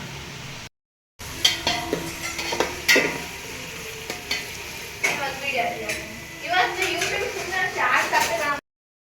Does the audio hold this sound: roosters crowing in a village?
no